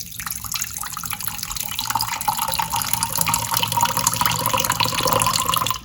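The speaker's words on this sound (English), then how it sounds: "and there comes out water." Water runs steadily from the faucet of an iSpring six-stage reverse osmosis system under a sink, a continuous close splashing flow with no talk.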